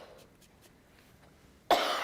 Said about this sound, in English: I've got a dry cough normally, but I've never been this bad.